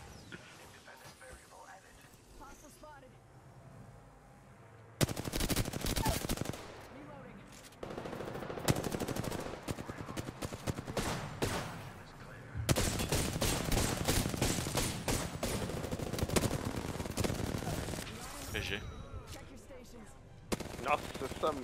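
Rapid automatic weapon fire from an Apex Legends match rattles in loud, dense bursts, with long sustained volleys broken by brief pauses and a few single shots.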